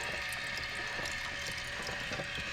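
Stop bath chemicals trickle slowly into a Paterson film developing tank on a programmable processor, a soft, continuous liquid hiss and gurgle heard up close and steady throughout.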